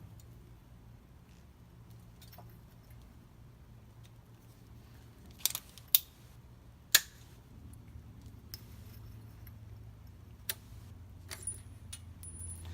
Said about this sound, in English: The next thing I'll be taking off is the timing belt tensioner and the timing belt.